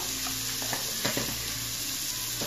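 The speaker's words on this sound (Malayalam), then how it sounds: "എന്നിട്ട് ചില്ലി ഇടുക, ഫ്രീ ചില്ലി ചില്ലി. എന്നിട്ട് അതൊന്ന് നല്ല സോട്ട് ചെയ്യുക" Turmeric and chilli sautéing in a pan for chicken macaroni, a soft even sizzle with a few light stirring scrapes, close but fairly quiet, no voices.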